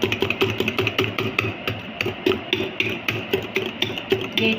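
Mango cake batter with milk powder is beaten by hand in a quick, even rhythm of sharp taps and clacks against the bowl, close up and with no talking.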